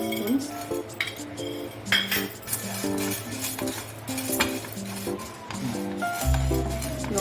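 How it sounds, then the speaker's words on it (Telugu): Dry lentils, toor dal and chana dal, being roasted without oil in a pan and stirred, giving repeated close clinks and scrapes of a spoon against metal with rattling grains. "ఒక 1 మినిట్ ఫ్రై చేసుకోవాలి. వితౌట్ ఆయిల్తో వేయించుకోవాలి."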